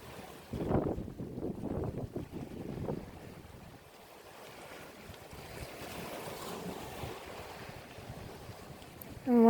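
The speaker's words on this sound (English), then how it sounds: "the water gently crashing against the rocks" Ocean water washes gently against rocks on an autumn shore, soft surging swells rising and fading under steady wind rumble, with a brief louder gust at the very end.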